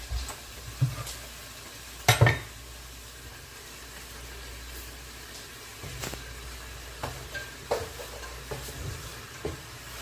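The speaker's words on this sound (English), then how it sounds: "I think we can add the onion straight to the beef." Onion and ground beef frying together in a pan for chili con carne, with a low steady sizzle, occasional stirring scrapes and utensil clinks, near and unhurried.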